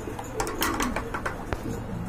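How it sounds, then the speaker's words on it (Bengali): Large pigeons coo softly against a steady background hum, with a few short bursts of sound and no voices. "অনেক বড় সাইজের কবুতর"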